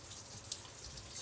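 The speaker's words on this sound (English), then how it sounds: "And it's late at night. It's raining." Rain falls at night as a faint, even patter with soft scattered drips and one slightly louder drop, close and quiet, and no voices.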